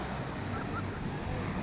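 Ocean waves break on the beach at Panama City Beach, a constant rushing wash of surf mixed with wind buffeting the microphone, steady and moderately loud throughout.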